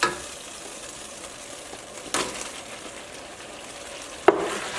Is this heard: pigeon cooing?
no